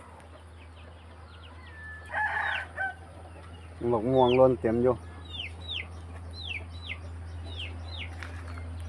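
Chickens cluck and a rooster crows nearby after heavy rain, with a couple of short bird calls repeating, over a low background hum and brief speech.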